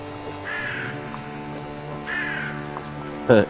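Crows cawing during a tabletop game session: two drawn-out caws at moderate distance, with a sharper, louder burst of cawing near the end over low room hum.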